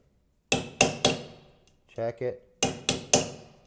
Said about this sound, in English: You can take a small ball peen hammer and sit here and tap the center of that in.